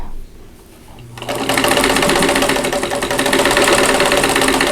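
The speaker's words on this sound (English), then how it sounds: "then sew the seam" Sewing machine stitching a quilt block seam: after a quiet second of handling, the motor starts and runs in a fast, steady, close mechanical whir with a rapid needle rhythm until the end.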